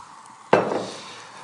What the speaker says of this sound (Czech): A nalejeme naše těstíčko do pánve.